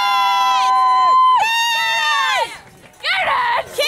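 Spectators at an Ironman triathlon cheer and scream loudly, with long high-pitched shrieks, a short pause, then another burst of yelling, close to the microphone.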